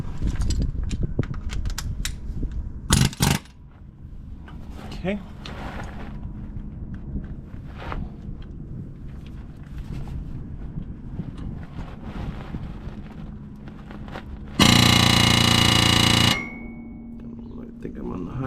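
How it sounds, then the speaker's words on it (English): An air hammer working on the front end of a Ford Super Duty during a rebuild fires in one loud, dense rattling burst of about two seconds near the end, after a brief shorter burst earlier; someone speaks briefly amid workshop noise. "Hook up to our air hammer and let her eat."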